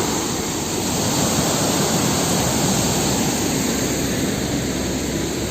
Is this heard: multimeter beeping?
no